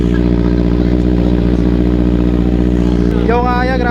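A motorcycle with an AR aftermarket exhaust idles and revs loudly up close, a steady low engine drone rising into a short rev near the end, with people talking over it.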